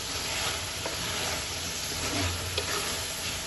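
Mutton pulao masala frying steadily in a pot, a continuous close sizzle with occasional stirring scrapes and no voices.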